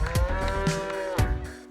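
Cattle lined up at a livestock parade moo loudly and close, with two drawn-out, harmonically rich calls that overlap one another and carry on without any talk.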